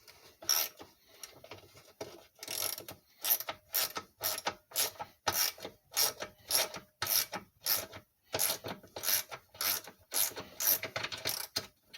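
Steady rhythmic ratchet clicking, close and moderately loud, in repeated strokes of about one per half second as a fuel tank is unbolted from a Tecumseh TVS90 engine off a 1984 Toro mower.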